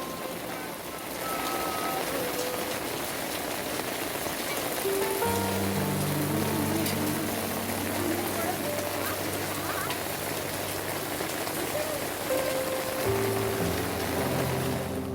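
Heavy rain pours steadily at a temple during Kanda Sashti worship, a dense continuous hiss that fills the whole stretch, with faint tonal sounds drifting through the downpour.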